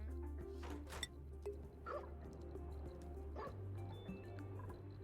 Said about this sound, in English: Are you barking like a dog?